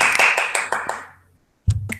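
Brief burst of hand clapping at the close of an online introduction session, a rapid patter of claps fading out, then a short pause and a second, quicker double clap close to the microphone.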